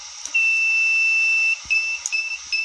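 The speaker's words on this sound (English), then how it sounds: "then the power off alarm is going to come on." A still's control panel power-off alarm sounds, a steady high electronic tone held for over a second, then breaking into shorter intermittent beeps, close and clear with no talking.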